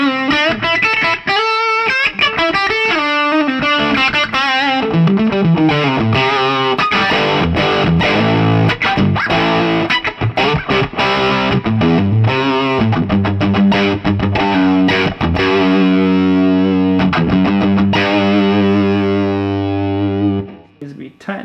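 Overdriven electric guitar played through a Marshall 50-watt tube amp with reverb, loud and sustained, with chords and single-note lines ringing and decaying over about twenty seconds before a quick fade at the end.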